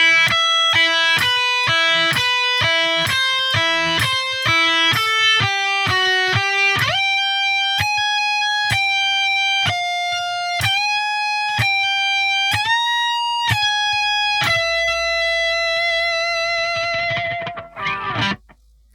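Distorted electric guitar plays a melody in octaves, quick picked notes over a repeating low pedal tone, then longer sustained notes before fading out.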